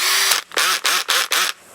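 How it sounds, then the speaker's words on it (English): Bursts of a cordless drill set to a low clutch setting: a short run, then three clutch-limited pulses, each cutting off abruptly. The sound is loud and close, with brief gaps of quiet between pulses. "the clutch setting for your drill, meaning when it gets to a designated pressure, it's going to stop actually drilling"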